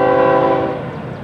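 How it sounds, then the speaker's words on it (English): A Florida East Coast Railway freight unit train's horn blares loudly with steady harmonic tones, fading slightly as the rumble of the passing train continues underneath, in East Central Florida. "Here comes the unit train."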